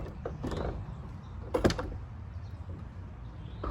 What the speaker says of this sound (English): Okay, we're gonna go ahead and get the door up there.